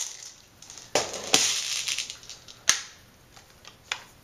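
A magazine is pushed free and pulled from a Cyma AK-47 tactical airsoft replica, giving several sharp plastic-and-metal clicks and clacks with short pauses between them, close to the microphone and with no talking.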